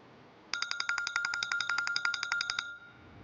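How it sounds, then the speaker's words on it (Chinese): An electronic telephone ringtone for a company call starts abruptly and repeats in a quick, bright pulsing pattern for about two seconds, clear and alone before stopping. "公司的电话，我出去接一下"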